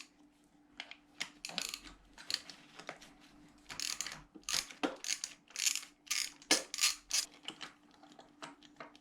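A ratchet turns a 16 mm spark plug socket on a short extension while removing a spark plug from a Kawasaki ER-6N motorcycle. It gives quick bursts of close, crisp clicking that grow denser and more rhythmic toward the end, with no talking.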